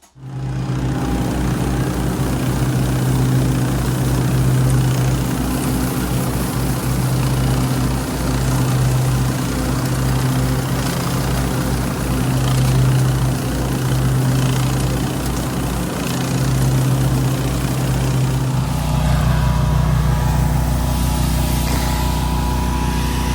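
A Briggs and Stratton V-twin engine, freshly repaired after an oil leak and sump gasket replacement, runs steadily and loud at close range with a throbbing low drone, shifting to a slightly different pitch near the end.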